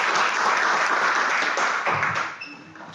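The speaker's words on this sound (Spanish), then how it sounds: "Dale palmas al Señor" A church congregation applauds for the Lord at the end of a prayer in a Spanish-language service, a dense, steady wash of clapping that fades out near the end.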